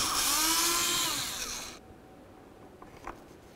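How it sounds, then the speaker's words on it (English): A power tool whirs loudly for under two seconds while removing mounting bolts near the mass airflow sensor of a 2010-16 Buick Lacrosse, then stops, leaving quiet with a small click or clatter. "The next thing we'll do is remove our two mounting bolts, one right down here and the other right up top."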